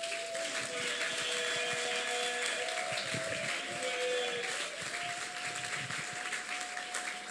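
A church congregation claps and acclaims at the close of a Sunday service, a broad continuous wash of applause with sustained tonal cheering or singing voices threaded through it.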